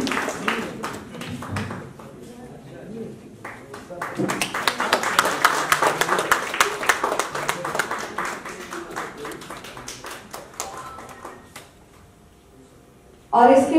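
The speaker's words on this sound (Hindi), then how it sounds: "जोरदार तालियों के साथ स्वागत करता हूं" Audience clapping welcomes a guest onstage at the New Delhi International Literature Festival in Hindi Bhavan; brisk, scattered claps run under a speaking voice, swell in the middle, then thin out.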